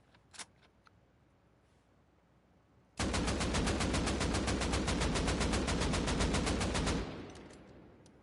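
Rapid AK rifle fire from the video game Rust Console Edition: after a few faint clicks, a loud, unbroken automatic burst lasts about four seconds, then cuts off with a short fading tail.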